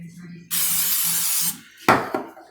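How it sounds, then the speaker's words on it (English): Canola oil is sprayed onto homemade egg rolls before air frying. One long, loud aerosol hiss lasts about a second, then two shorter quick bursts follow, with faint talk in between. "we're going to spray that thoroughly"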